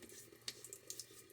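Water from a tap splashing for a wet shave, a faint running trickle with a few soft splashes and drips, quiet and close, no voices.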